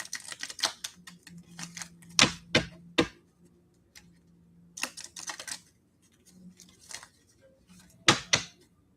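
A deck of cards being shuffled, coming through as close, crisp bursts of papery clicks and short riffles separated by quiet pauses, with no voices.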